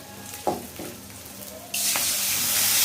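Frying spices give a quiet sizzle with a few light stirring knocks, then water hits the pan and sets off a loud, steady hiss that runs to the end.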